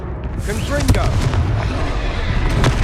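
Confringo spell explosions in the Hogwarts Legacy video game: a dense, loud run of booming blasts with crackling debris and rumble under repeated shouted spell words.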